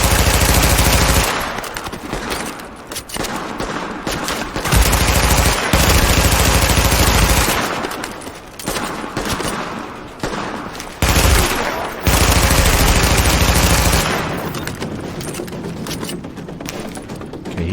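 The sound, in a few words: gunfire from a weapon in the video game The Division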